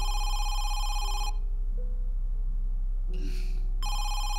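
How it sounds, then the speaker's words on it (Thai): Landline telephone in the horror game Home Sweet Home rings with a bright electronic trill in two bursts separated by a pause, over a low droning ambient hum. "เหมือนเสียงโทรศัพท์บ้าน"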